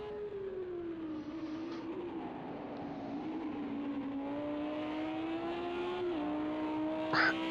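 A GT3 race car lapping Mount Panorama Bathurst in a racing game, its engine a steady, close drone rising gradually in pitch, with a brief dip near the end like a gear change.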